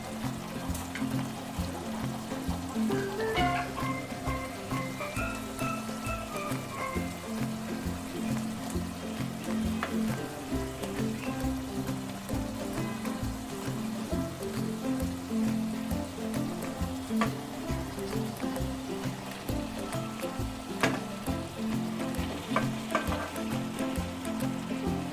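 Previously fried tilapia pieces sizzle and crackle steadily in a pan of spiced curry, a dense continuous frying hiss with soft stirring scrapes, close and even throughout with no talking.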